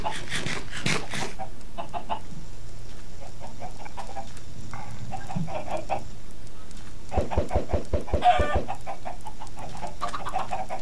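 Video game chickens clucking near a farm with gates, a series of short clucks and rooster-like calls scattered across the stretch, with a brief burst of busy clatter partway through.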